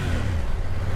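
A 2024 BMW F900 GS motorcycle engine with an Akrapovic exhaust gives a brief, steady, low rumble at close range.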